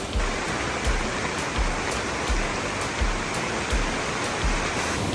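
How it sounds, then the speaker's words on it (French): A heavy downpour drums steadily on a forest camp beside a flooding river, a dense close hiss of rain with faint periodic low thumps, no voices. "Le camp est posé. Le déluge est arrivé direct."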